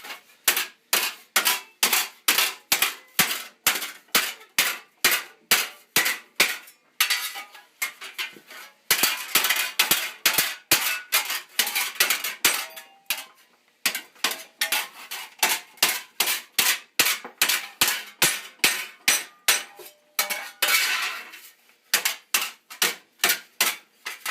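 Steel greave plate hammered over an anvil in armour-making, a long run of rapid, loud metallic blows in quick bursts with brief pauses between groups, no talk.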